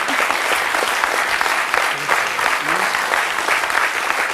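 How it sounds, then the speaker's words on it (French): A studio audience on a French TV talk show applauds, with dense, even clapping from many hands throughout and faint voices mixed in beneath it. "on peut l'applaudir très fort"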